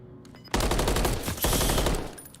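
Automatic gunfire from a competitive Call of Duty esports gunfight, a quiet lead-in then sustained loud rapid bursts of shots with a brief dip before a second dense burst.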